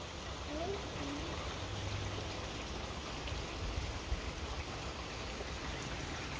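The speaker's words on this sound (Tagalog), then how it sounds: "Thanks God it's raining." Steady rain falls on a windy day, a soft continuous hiss of drops spreading evenly across the clip with no pauses, moderately quiet and close by.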